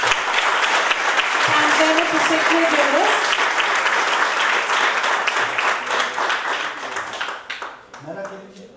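Sustained applause from a hospital conference audience, loud and dense throughout and thinning toward the end, with someone speaking over the clapping.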